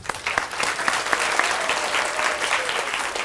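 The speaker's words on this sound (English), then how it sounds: "Would you please give him another round of applause?" Another round of applause from the crowd at a Focus Learning Academy event, loud and dense clapping from many hands filling the room, sustained and even throughout with no voices over it.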